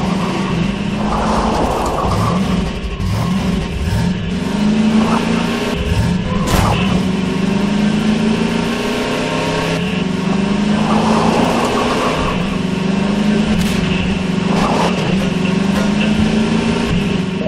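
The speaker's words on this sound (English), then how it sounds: "I can't rev the engine when I'm sitting still." A car engine revs in the Half-Life 2 Synergy co-op mod, a loud, continuous game-engine drone that surges and falls in pitch over several seconds, with no talk.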